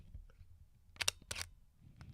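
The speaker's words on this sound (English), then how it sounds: "let me see if I can demonstrate this digital Leica shutter sound" A digital Leica camera's shutter fires with a quiet pair of crisp, tinny mechanical clicks followed by another click soon after, close up in a quiet room.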